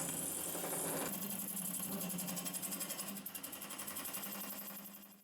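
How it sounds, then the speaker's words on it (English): A wood lathe spins a wood and epoxy resin vase block, giving a faint, continuous whirring hum with a rapid rhythmic pulsing that wavers slightly as the turning continues. "it is ready to go back on the lathe and turn it into the desired shape"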